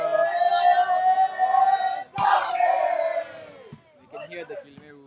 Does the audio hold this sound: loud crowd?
yes